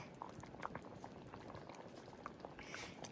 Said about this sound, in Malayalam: അതിനിടയ്ക്ക് നമ്മുടെ മീൻകറി ദേ വറ്റിയായി വരുന്നുണ്ട്